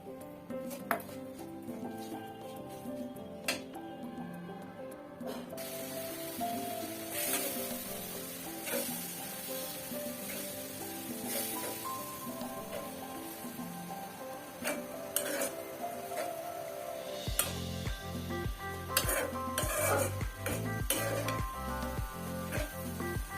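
Dried chapa fish is stirred with chili and turmeric in a hot pan, with continuous sizzling and repeated metal scrapes and clinks, while music plays in the background.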